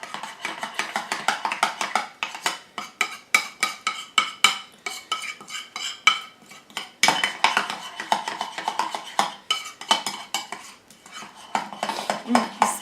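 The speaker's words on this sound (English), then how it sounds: "So I'm just gonna mix this all together." Homemade deodorant ingredients get mixed in a bowl, a rapid, rhythmic clinking and scraping of a utensil against the bowl that continues steadily and close up without speech.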